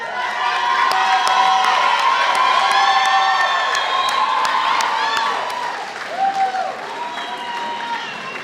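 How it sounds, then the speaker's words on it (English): A crowd at a culinary institute graduation ceremony breaks into loud, sustained applause and cheering with scattered whoops, then fades slightly before a few more bursts of clapping. "Big hand of applause, please."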